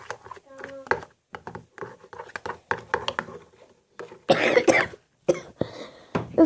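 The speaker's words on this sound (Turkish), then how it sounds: "Öksürebilirim arkadaşlar." A sick person coughs several times in short bursts, close and loud, with talk around the coughs and some handling noises while slime is being made.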